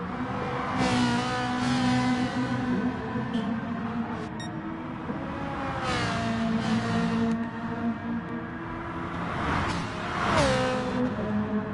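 Race cars in the video game GT Sport during an online championship race at St. Croix, engines revving and whooshing past in several surges and shifts over a continuous motor drone.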